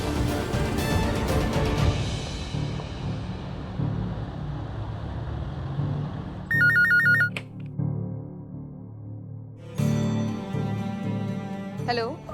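A phone rings during a scene of a Hindi TV drama: short electronic ringtone bursts over a low, steady background music bed, with a louder burst returning near the end.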